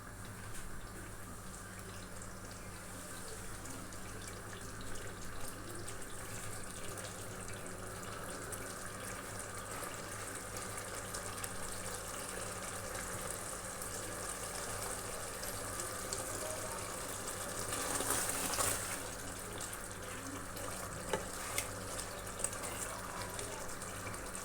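Water pours steadily into a pan of chicken chole (murgh cholay) gravy, a continuous splashing rush that swells briefly near the end.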